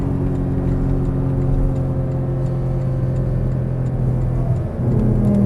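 A Porsche Cayman GTS runs on a race track, its engine holding a loud, steady mid-pitched drone from inside the cabin, with a brief dip near the end as the driver shifts down.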